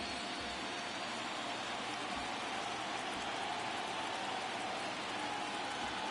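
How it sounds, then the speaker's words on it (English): Light rain falling at night in San Francisco during a baseball video game at the Giants' ballpark, a steady soft hiss that stays even throughout with no voices. "it's a damp, light rain falling night here in San Francisco"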